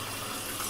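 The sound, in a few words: regular tap water running to rinse B&W film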